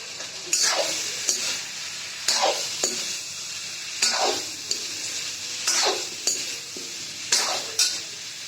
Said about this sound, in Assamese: ইয়াতে আলু দিম, আলুখিনি মই দি দিলোঁ, ধুনীয়াকৈ দি দিলোঁ